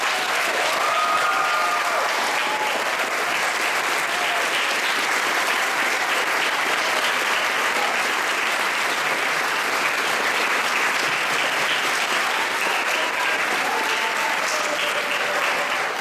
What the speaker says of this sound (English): please join me once again in applauding all of our new Beta NJHS members